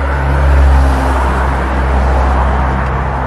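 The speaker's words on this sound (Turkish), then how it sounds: "Evet, arabayı çalıştırdık." A car engine starts and settles into a steady low idle, loud and close, with a strong low rumble and no talking.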